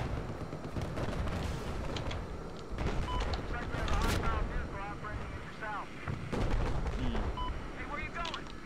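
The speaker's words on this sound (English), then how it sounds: "Putting mortars right where you died just now." Mortar fire in the Battlefield 4 video game: a string of booming impacts and blasts spread through a dense battle soundscape, with players talking over it.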